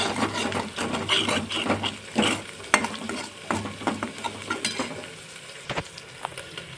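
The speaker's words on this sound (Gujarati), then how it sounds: "હવે ફ્રેન્ડ્સ આપણે બધું મિક્સ કરી લેશું" Ginger-chili-garlic paste frying in a pan is stirred steadily, a spoon scraping and rubbing over a continuous close sizzle with a few sharper knocks against the pan; no talking.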